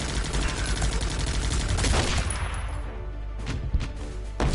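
Dense bursts of minigun fire and grenade blasts from the war game Guns Up!, loud and continuous at first, then thinning out into a few scattered shots and pops.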